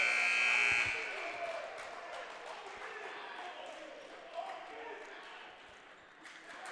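A loud electronic buzzer blares briefly at the start as a last-second shot drops, then a crowd roars and cheers in a high school gym at a boys' basketball game while an announcer talks over the noise.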